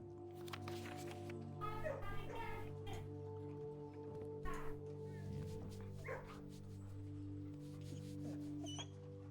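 A dog in the video game Blue Prince barks and yips in short bursts with whimpering between them, over a steady droning game background, with a voice also audible.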